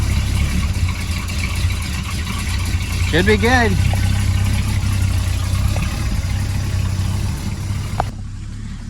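A tow truck's engine idles steadily after starting, a continuous low rumble running under brief nearby talk before cutting off near the end.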